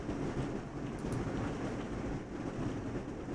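Heavy rain suddenly pouring down outdoors, a dense, steady, loud roar like a passing train that holds unbroken throughout with no voices.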